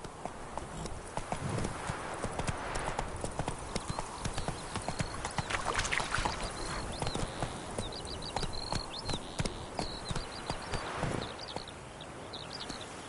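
Galloping horse hooves in The Witcher 3, a continuous rhythmic clip-clop drumming close and loud, with faint chirping birds and ambient game sounds behind it.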